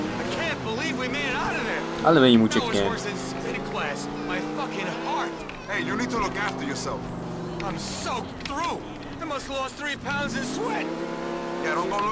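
A car driving in the video game GTA IV, a continuous engine drone that rises and falls as it revs and shifts, close and steady, with voices talking over it throughout.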